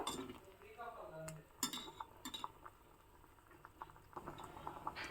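A pot of rasam, a thin lentil saaru seasoned with rasam powder, bubbles at a steady rolling boil close by, with occasional light clinks of utensils against the pot. Nobody speaks.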